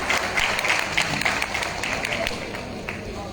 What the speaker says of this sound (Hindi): एक बार जोरदार ताली हो जाए उनके लिए।